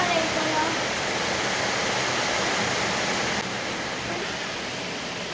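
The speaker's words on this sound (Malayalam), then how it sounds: "നല്ല കാറ്റും മഴ ചാറലൊക്കെ." Strong wind with rain blows outdoors as a steady, loud, broadband rush that stays even from start to finish and eases slightly near the end.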